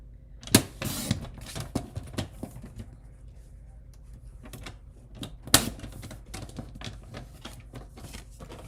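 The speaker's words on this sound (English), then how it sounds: "So we're gonna cut a 2 3/4 inch square here." A square of coordinating cardstock is cut to size at a craft table, giving close, sharp clicks and snaps with irregular tapping and paper rustling, including two loud cracks several seconds apart.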